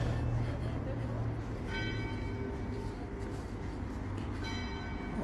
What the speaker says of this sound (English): Got some bells ringing.